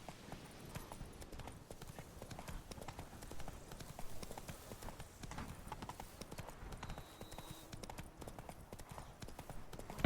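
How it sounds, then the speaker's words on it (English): Horse hooves galloping in The Witcher 3 on Xbox, a steady clip-clop rhythm running throughout at moderate level among dense game sound, with a brief whinny-like tone near the end. "I can't drive this horse, damn it."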